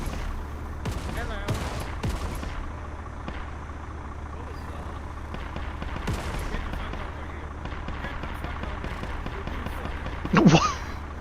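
Arma 3 gunfire pops in scattered bursts, some sharp and close and others more distant, over a steady low engine rumble, with voices talking over the radio.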